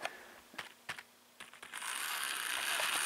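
A model locomotive with a three-pole motor runs in reverse: a few sharp clicks and clunks at first, then a steady, close whirring hiss from the motor that holds to the end.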